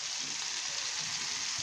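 Pieces of turkey frying in hot oil in a pan, a steady dense sizzle with a soft crackle throughout, close and unbroken, no talking.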